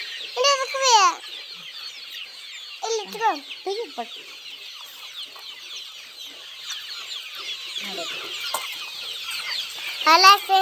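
Scattered clucks and squawks from chickens on a village poultry farm, in short bursts with pauses between, over a steady background of high, faint bird chirping.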